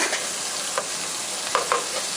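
Tomatoes frying and reducing in a pan for menudo: a steady bright sizzle, close and moderately loud, with a few brief stirring clicks and scrapes, no speech.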